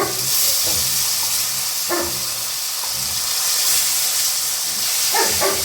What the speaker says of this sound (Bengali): এবার আর একটা সাইড ভাজা হওয়ার জন্য আবার ভেজে নিচ্ছি।